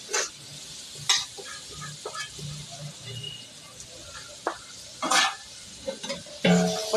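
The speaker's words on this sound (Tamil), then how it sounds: "போட்டு நல்லா வதக்கிக்கோங்க." Ground small shallots sautéing in a pan with country chicken, soft sizzling under repeated clinks and scrapes of a stirring spoon close by.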